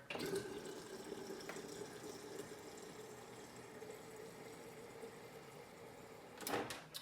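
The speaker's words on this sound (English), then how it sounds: "I'm gonna fill it up with water up to the 36." Water running from a tap into a protein shaker bottle, a steady low hiss and splash throughout, with a brief louder clatter near the end.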